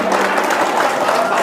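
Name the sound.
audience applause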